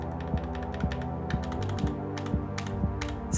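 Synth pattern from a Dirtywave M8 tracker, a sustained string-like tone over a steady low pulse about twice a second, with bright clicky ticks scattered on top, moderate and continuous.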